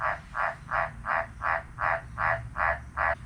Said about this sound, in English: There's always a frog.